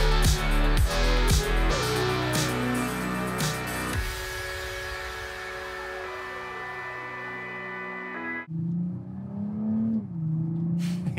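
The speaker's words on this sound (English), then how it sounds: "Even at partial throttle, the engine's like, let's go." A 2021 Toyota Supra engine revs under partial throttle, its rising harmonic drone building over several seconds before easing off, with a loud gear-change burst and renewed pull near the end; close, loud, and without talk.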